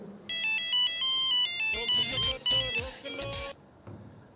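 Ringtone of an incoming phone call in a political satire sketch, a repeating electronic melody of short tones lasting about a second and a half before loud speech and laughter take over.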